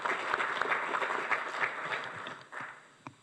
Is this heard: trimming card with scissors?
no